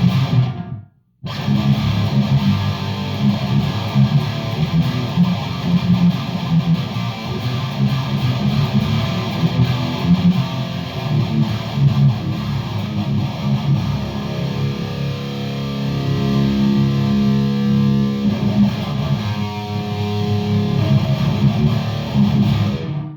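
Distorted electric guitar chords played through an ISP Decimator 2 noise gate pedal, chugging loudly and continuously for over twenty seconds after a brief silent gap at the start, with no hiss audible between notes.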